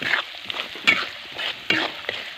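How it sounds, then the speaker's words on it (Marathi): Onion and grated coconut frying in oil in a pan for a moong dal amti, with a soft sizzle and three distinct spatula strokes, near and moderately loud, no talking. "आता कांदा आणि खोबरं आपल्याला छान प्रकारे परतून घ्यायचं आहे"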